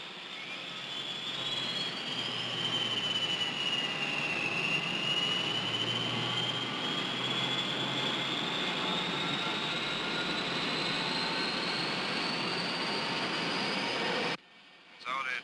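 Steady roar of jet airliner engines in flight toward Seattle at cruising altitude, a continuous loud cabin drone with a rising whine, cutting out abruptly near the end.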